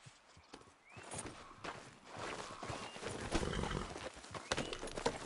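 Horse hooves clip-clop steadily while riding at a walk in Red Dead Redemption 2, with a brief whinny and outdoor ambience, close and moderately loud with no talk.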